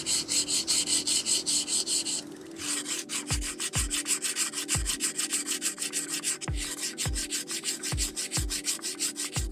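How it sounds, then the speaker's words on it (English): Steady scratchy rubbing of sandpaper on wood, continuous back-and-forth strokes with a few light knocks, close and fairly loud, no talking. "Now I'm just going to move on to sanding."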